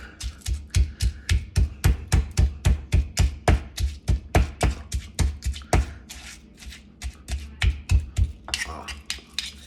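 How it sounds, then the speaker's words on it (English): A pestle pounds garlic, peppers, sugar and shrimp paste in a ridged mortar for a spicy Lao or Thai papaya salad. The strikes are steady and rhythmic, roughly three a second, and close by, with faint background sound. "mash up the garlic, expose the seeds, you know, from the peppers, mix the sugar and the shrimp paste all together"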